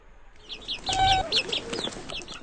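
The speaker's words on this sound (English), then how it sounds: "I hear it peep, chirp and cheep." A small chick peeps and chirps in quick, high, repeated calls, close and fairly faint, with a brief low rumble partway through.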